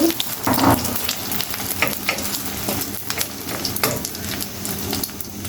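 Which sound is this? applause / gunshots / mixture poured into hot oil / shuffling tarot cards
mixture poured into hot oil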